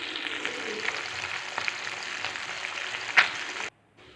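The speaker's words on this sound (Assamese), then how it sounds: "গৰম হৈ গ'ল কেৰাহীত মই মাছ ফ্ৰাই কৰি আছে" Fish frying in hot oil in a kadai makes a dense, continuous close sizzle with a sharp pop near the end, then stops abruptly.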